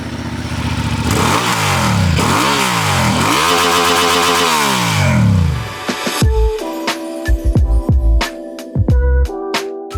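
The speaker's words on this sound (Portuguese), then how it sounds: "Vamos escutar o motor dela?" Honda CB750 Hornet 2026 naked motorcycle engine revving hard through rising and falling sweeps for six seconds, then a series of sharp short throttle blips and clattering idle pops, loud and close.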